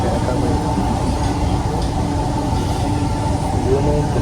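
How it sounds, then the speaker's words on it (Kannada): A metro train carries riders along, its steady rumbling hum of wheels and motors loud and continuous inside the carriage, with people talking over it. "ನಾವು ನೋಡಿ ಮಿರರಲ್ಲಿ ಗೈಸ್ ಮೆಟ್ರೋ ಹೋಗ್ತಾ ಇದ್ದೀವಿ"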